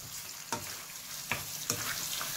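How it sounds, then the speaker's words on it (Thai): Squid eggs being stir-fried in a hot pan, a steady sizzle with a few sharp scraping strokes of the spatula, close and fairly quiet, no talking. "ผัดให้หมึกสุกนะครับ"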